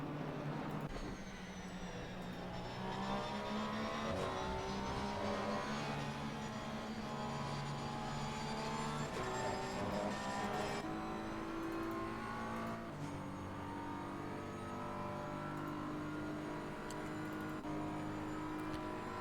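GT3 race cars battle at Spa-Francorchamps in a racing game, engines revving and shifting steadily through gears as several cars pass, sustained and moderately distant.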